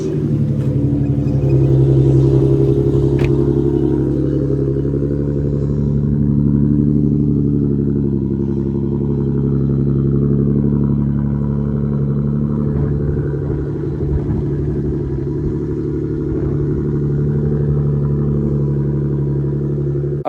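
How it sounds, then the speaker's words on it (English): A car engine starts cold and idles for a warm-up at a cars-and-coffee meet, giving a steady low rumble with harmonic tones and slight swells in engine speed, close and continuous throughout, with no talking. "Matter of fact, we can do a little cold start."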